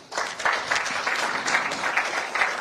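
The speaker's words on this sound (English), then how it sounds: "Another round of applause, please." Audience applause breaks out at a scholarship announcement event, a steady, sustained clatter of many hands clapping across the whole stretch, fairly loud and even with no talk over it.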